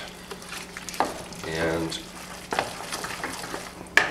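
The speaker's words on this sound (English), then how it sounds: "Stir it up real good. Make sure it's coated evenly throughout." Mac and cheese with bacon being stirred in a pan, a soft wet scraping and squelching that swells in the middle, with brief clinks from the utensil and a short spoken word.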